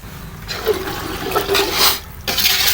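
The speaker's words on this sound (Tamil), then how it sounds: "அந்த கழனி தண்ணியை ஊற்றிக்கிங்க." Starchy rice-washing water pours into a pot of mutton biryani, a loud, close gushing splash that runs in two bursts with a brief pause between, and no talking.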